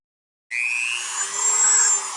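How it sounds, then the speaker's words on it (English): Dremel rotary tool spinning a drill bit, starting abruptly after a half-second of silence into a steady, close, high-pitched whine that holds level to the end. "take some kind of Dremel tool right here, and that spins this drill bit"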